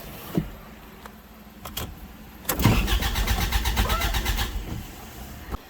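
A Toyota Tacoma engine, just repaired after a fuel pump fault, cranks with a few short tries and then catches, settling into a steady, close idle with a final clunk.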